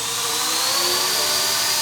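An XK K170 UH-60 Black Hawk RC helicopter flying, its rotors and small motor making a steady, loud, high-pitched whine close by, continuous and even throughout.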